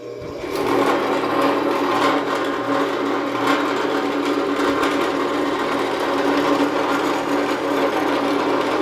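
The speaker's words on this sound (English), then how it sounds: "So I'm going to go ahead and turn on the drill press" A drill press whirs steadily as it drills air bleed holes into a Holley carburetor, a loud, constant motor hum with a faint rhythmic buzz and no talk over it.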